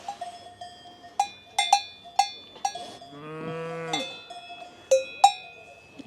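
Cowbells clank in irregular, ringing strikes from small cattle nearby, with one drawn-out bovine moo rising and falling in the middle between the metallic clangs.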